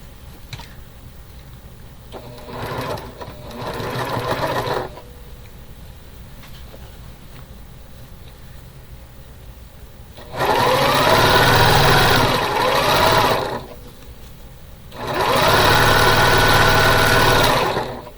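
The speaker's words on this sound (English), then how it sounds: "sewing the black fabric together can be tricky" A sewing machine stitches black quilting fabric, running in several bursts of a few seconds each, the last two loud and close, with quiet pauses between.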